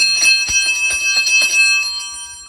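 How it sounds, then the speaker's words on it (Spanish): Church bells ringing loudly at the start of a quinceañera Mass, a quick series of clanging strikes with long bright overtones that hang in the air and slowly fade. "Y sueno las campanas"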